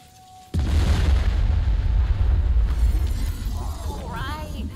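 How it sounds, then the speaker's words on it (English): Cannon fire in the video game Tiny Tina's Wonderlands: a sudden loud boom, then a sustained rumbling blast that slowly tails off, with game voices or sounds over the end. "Stupid cannons again!"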